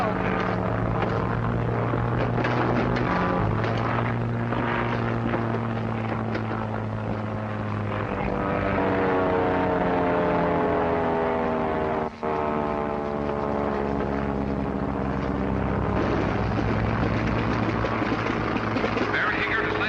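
A propeller airplane from 1937 drones loudly as it comes in to land in a field, a steady engine roar with a shifting pitch and a brief dropout partway through.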